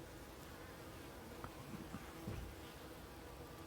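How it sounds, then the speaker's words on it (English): Honey bees flying in and out of a hive entrance fitted with a larger opening, a continuous soft buzzing hum with a few closer passes, no talking. "So we switched to the bigger opening and the bees seem to be much happier now."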